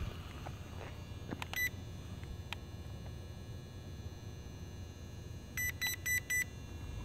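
A JJRC H8C drone gives short, thin electronic beeps, a pair early and a quick cluster of four near the end, faint over a steady outdoor hum and background noise.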